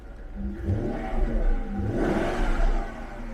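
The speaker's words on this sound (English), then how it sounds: "And it revs up very, very nicely." A Jaguar S-type V8 with a newly fitted engine and no water pump installed is revved. It gives a couple of rising and falling swells of mid-pitched engine roar with some clatter, heard fairly close.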